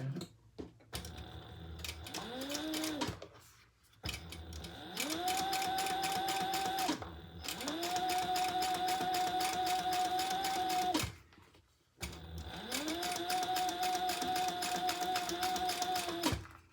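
Sewing machine top stitching a Mallory Mini crossbody bag in black and leopard fabric, running in several long steady mechanical bursts separated by brief stops.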